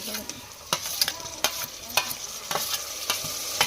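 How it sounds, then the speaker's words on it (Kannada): Onions and tomato frying in a pan, stirred with repeated sharp scraping strokes over a steady close sizzle, no voices. "ಉಳ್ಳಾಗಡ್ಡಿ ಮೆತ್ತಗಾಗೋವರೆಗೂ ಫ್ರೈ ಮಾಡ್ಕೊಳ್ಳೋಣ."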